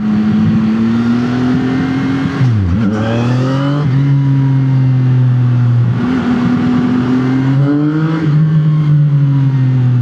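A motorcycle engine revs hard while being ridden, loud and close, its pitch climbing and then dropping sharply at each gear change in a steady, continuous drone. No one speaks.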